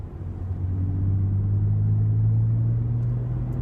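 A BMW E90 with a manual gearbox gives a steady low engine drone from inside the cabin, the tone holding and rising only slightly as it pulls, loud and continuous with no talk.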